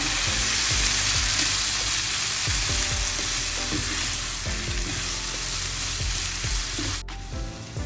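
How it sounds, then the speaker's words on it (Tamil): Onions and tomatoes with turmeric and salt sautéing in a pan, a loud, continuous sizzle with repeated stirring scrapes throughout, ending in a sharp clack. "சேர்த்துட்டு எல்லாத்தையும் கலந்து வதங்க விடுவோம்"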